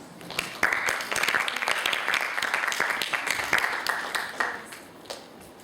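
Audience applause at a middle school English speech competition, a burst of clapping from a crowd that starts abruptly, holds steady for several seconds, then thins out near the end.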